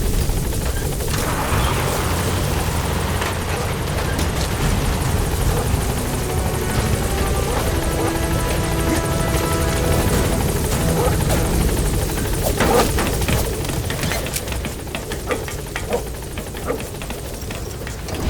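A helicopter's rotor thumps and engine whine hold steady and loud throughout, close by, with faint game sound effects mixed underneath, as a support helicopter arrives in Metal Gear Solid V: The Phantom Pain.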